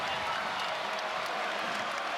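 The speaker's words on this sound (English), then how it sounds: "Here comes the crowd." A basketball arena crowd at a college game roars in a dense, steady wash of cheering and applause, loud and continuous with no distinct individual claps.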